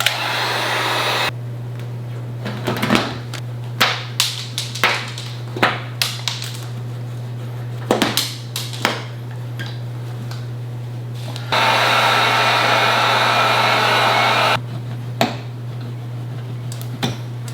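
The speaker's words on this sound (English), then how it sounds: "What we want to do is first heat up the material, so you use a heat gun, and then underneath this you just go back and forth." A heat gun warms vinyl wrap material on a Tesla Model Y spoiler, blowing in two steady, loud bursts, with scattered clicks and rustling handling noises between them and a constant low hum throughout.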